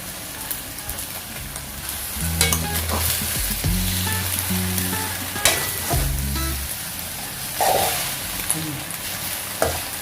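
Wide rice noodles stir-fried with vegetables in a pan, loud steady sizzling with repeated scraping and clattering strokes of a spatula, close up and without speech.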